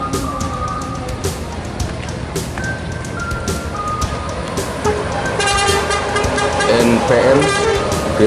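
A long-distance bus pulls out of Terminal Bareh Solo bound for Jakarta, its horn tooting in repeated tonal blasts over busy station noise and engine rumble, with background voices and a few beeps throughout.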